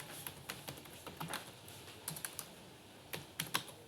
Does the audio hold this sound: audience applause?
no